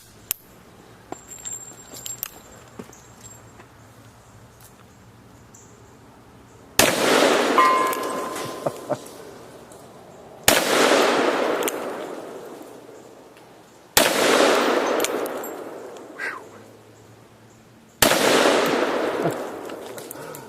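A Smith & Wesson Magnum 500 revolver fires four very loud, booming shots outdoors, each a few seconds apart, with a long rumbling echo after every blast.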